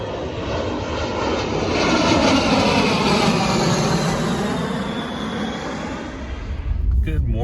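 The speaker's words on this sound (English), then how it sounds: "We got some A-10 warthogs flying over us." A-10 Warthog jets pass overhead outdoors, a loud, continuous roaring engine drone that swells toward the middle and fades, with a brief rustle near the end.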